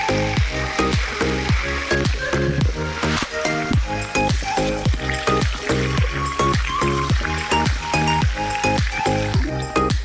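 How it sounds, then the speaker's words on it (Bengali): Potatoes fry in white cooking oil with a dense, continuous crackling sizzle that pulses in a quick, regular rhythm, close and fairly loud throughout, with no talking. "আলুগুলোকে শুধু নুন দিয়ে ভেজে নেব, হলুদ দেবো না। আমি এখানে সাদা তেল দিয়ে ভাজছি"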